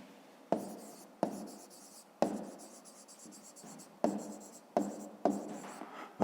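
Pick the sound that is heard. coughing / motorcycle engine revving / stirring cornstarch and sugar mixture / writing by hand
writing by hand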